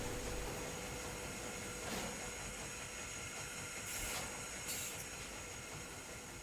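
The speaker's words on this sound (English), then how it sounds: "That's an impressive old train." An old train runs in a ghost-hunting adventure game, a steady rolling rumble and hiss with a few brief metallic squeals and clanks, heard alone at a moderate distance.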